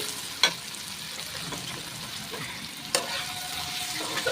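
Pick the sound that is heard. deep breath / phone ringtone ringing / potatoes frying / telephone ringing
potatoes frying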